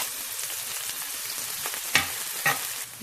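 Curry leaves and onion frying in hot oil, a steady close sizzle and crackle with two sharper pops or stirring clinks partway through.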